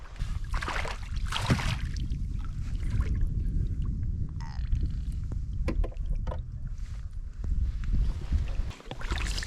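Canoe paddles dipping and pulling through the water of the Allanwater River, with splashes and gurgles and some rumble from wind on the microphone, close by and continuing in an uneven rhythm.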